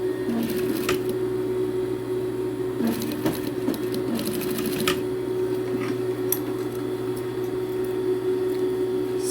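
A sewing machine runs a steady closing stitch along the edge of a pleated school skirt's waistband. The motor hum holds continuously, with a few louder clicks and rattles near the start and no voices.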